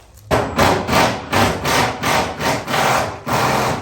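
An air impact wrench snugs up bolts on a Pontiac GTO during suspension work, firing a run of about eight short, loud rattling bursts in a steady rhythm with brief pauses between them.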